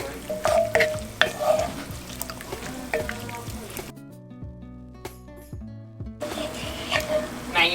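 Seafood sizzles and fries in a pan as the first stage of a seafood paella, with stirring and scraping noises and a short quieter pause midway, heard close up.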